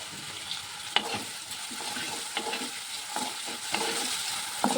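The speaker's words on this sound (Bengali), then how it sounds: "তখন আমার আলু ভাজাটা হতে থাকবে।" Potatoes frying in plenty of oil with salt and turmeric give a steady, loud sizzle, broken by regular scraping stir strokes of a spatula in the pan, with no voices.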